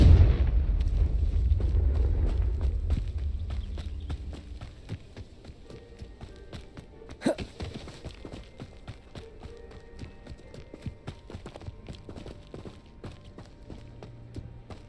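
A Confringo blasting spell in Hogwarts Legacy bursts as one sharp, fairly loud explosion midway through. Low rumbling game ambience and faint scattered clatter surround it, with a heavier rumble fading out over the opening seconds.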